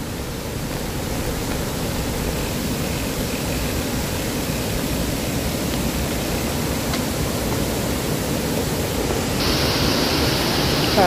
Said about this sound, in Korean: 아, 물소리 좋다.